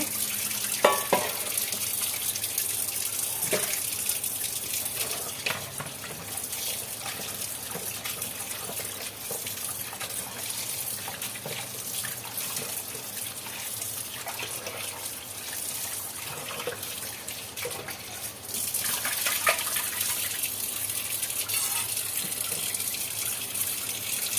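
Aloe vera being rinsed under a running kitchen tap: a steady, continuous splash and gush of water lasts the whole stretch, a little louder near the end, with no talking.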